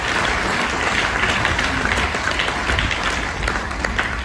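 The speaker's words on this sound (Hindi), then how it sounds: "एक जोरदार ताली अग्रवाल सर के लिए होनी चाहिए।" An audience at a DXN Ranchi recognition night applauds Agrawal sir, a steady wash of crowd clapping lasting a few seconds.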